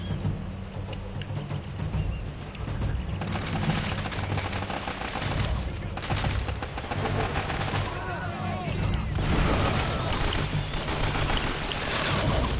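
Gunfire rattles through a shootout in Uncharted: Drake's Fortune, bursts of shots mixed with game sounds and someone talking over the action, with no clear break in the din.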